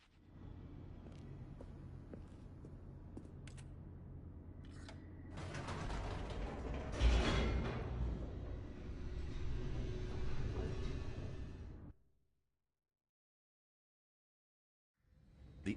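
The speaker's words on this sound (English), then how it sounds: "The elevator raced downward" An elevator descending in the video game The Stanley Parable gives a steady mechanical rumble with creaks and ratcheting clicks that grows louder midway, then stops abruptly, followed by silence.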